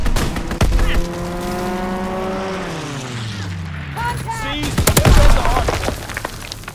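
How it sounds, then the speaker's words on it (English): A fighter plane swoops in with a descending engine whine and strafes the target in Call of Duty WW2 multiplayer, unleashing loud, sharp bursts of gunfire near the end. "Fighter pilot inbound. Strafing the target."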